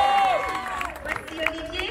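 Audience at a closing-night show at Disneyland Paris clapping and cheering: a steady, moderate wash of crowd applause lasting two seconds under a voice speaking over it.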